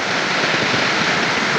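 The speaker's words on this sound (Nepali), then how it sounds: "खोला चाहिँ हेर्न सक्नुहुन्छ" A river in the Nepali hills, about to be crossed on foot during a camping trip, rushes in a steady, loud wash of broadband water noise that fills the whole short stretch with no break.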